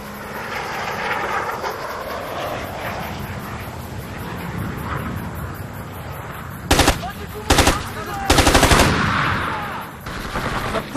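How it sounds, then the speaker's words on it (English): Gunfire in the Xbox video game Ghost Recon 2 during a train yard battle, with several sharp automatic bursts rising over a steady rumbling engine-like background and faint voices, loud and close. "Suppression fire!"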